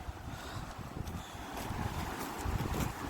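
Violent wind of 70 to 90 km/h rushes and buffets against the microphone in a continuous roar, swelling slightly stronger toward the end, with no voices.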